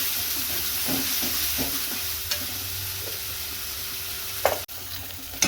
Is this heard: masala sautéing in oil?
yes